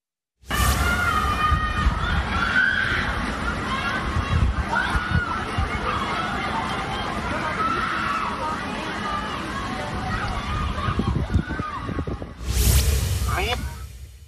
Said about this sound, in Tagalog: rinig na rinig ang paghingi ng saklolo ng mga stranded na residente sa Barangay Triangulo sa Naga